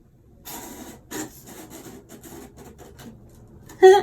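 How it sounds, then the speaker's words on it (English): A cat climbs around inside a box, making close, soft scratching and rubbing scuffs in short irregular bursts, ending with a louder scrape. "That's my cat climbing in a box."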